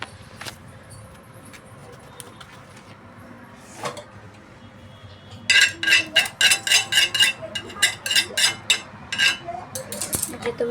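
An iron griddle pan (tawa) and metal dishes are handled in a home kitchen, starting with a few isolated clinks, then a close run of rapid clattering, scraping metal knocks.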